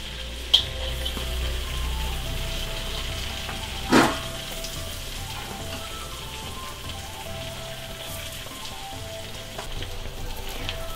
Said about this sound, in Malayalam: അപ്പോൾ അടുത്തത് ഞാൻ പറഞ്ഞ പോലെ ഗാർലിക്കാണ് ഇടുന്നത്.